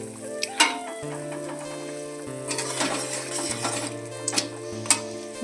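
Fish dropped into a boiling sour gravy with split green chillies, giving a soft, steady bubbling sizzle with a few sharp ticks, heard under sustained background music.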